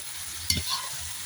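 A spoon scrapes once through chickpeas and minced meat frying in a pan for an Uzbek dish, a brief stir over a faint, steady sizzle.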